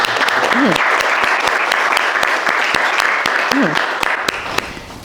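An audience at a Cumbre del Futuro forum on Security Council reform applauds a panel: steady, full clapping from many hands that holds for several seconds, with a brief voice cutting through, then tapers at the end.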